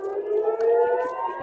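A civil defense siren wails in a steady, sustained tone, loud and clear, with no voices over it.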